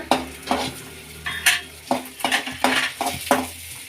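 Urad dal frying in a little oil in a pan while a spoon stirs it, making a soft sizzle broken by several sharp scraping clinks at an uneven pace, close by with no talk.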